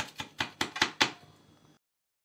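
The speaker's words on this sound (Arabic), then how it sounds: "سامعين صوت القرمشه بتاعتها" Crunchy nut-topped kunafa being cut with a knife gives five crisp, sharp crunches in quick succession, close and clear, followed by a brief fading crackle and no talking.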